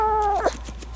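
A single cat meow from a sound effects library, one close, clear, drawn-out cry that bends downward and ends abruptly.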